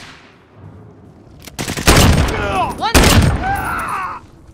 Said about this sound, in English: Cluster strike is going for launch.